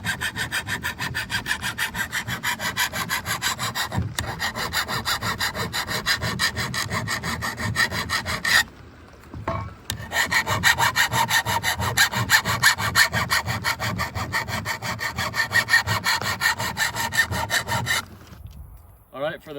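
A file is rasped back and forth along the edge of a metal piece to bevel it, making a loud, steady run of rhythmic scraping strokes with one short pause midway and a quieter tail at the end.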